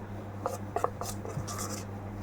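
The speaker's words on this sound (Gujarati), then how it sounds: "હવે મિક્સ કરીશું." A spoon stirs batter with chili powder mixed in, making a few quiet, close, wet scraping strokes in quick succession.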